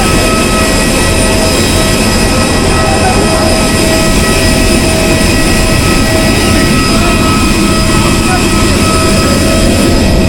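Loud, steady jet aircraft engine roar just before takeoff on a flight out of Dimapur, Nagaland, a constant broadband hum with no talking.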